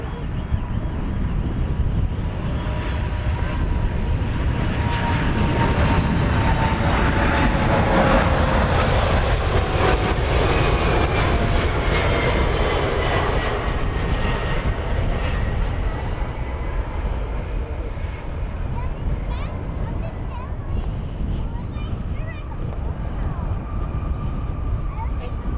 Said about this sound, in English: This is a UPS 747.